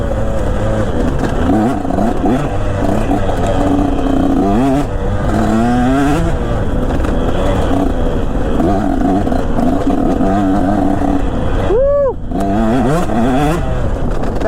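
A KTM two-stroke enduro motorcycle revs hard on an overgrown trail, its close, loud engine rising and falling continuously with one brief dip in throttle near the end.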